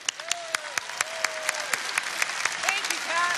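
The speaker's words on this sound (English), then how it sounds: "Applause going for the Honorable Pat Grassley" Rally crowd applauds a state representative while a voice talks over the clapping, and sharp regular claps punctuate the steady applause.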